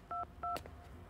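Telephone keypad dialing tones, two short beeps in quick succession with faint clicks around them, close and quiet, with no talk.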